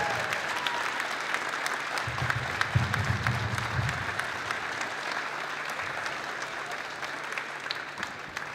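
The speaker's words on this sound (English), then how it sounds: "please join us in one final round of applause" Crowd applause at a high school sports game honoring senior players, a steady wash of clapping through the whole stretch, fairly distant and diffuse in a large venue, with faint low voices mixed in.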